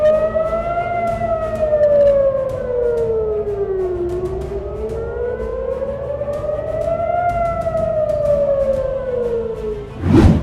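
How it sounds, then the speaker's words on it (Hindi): An air raid siren wails in Jerusalem during a missile attack, its tone slowly rising and falling in long sweeps, loud and continuous, with a sharp burst at the very end. "वहां और अन्य क्षेत्रों में हवाई हमले के सायरन बजने लगे थे"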